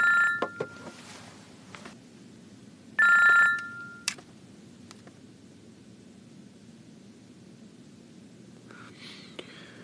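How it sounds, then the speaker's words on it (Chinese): A telephone rings in two short electronic bursts, loud and close, separated by a few seconds of quiet room hiss, with a brief click and faint rustle afterward. "好了，打电话了。"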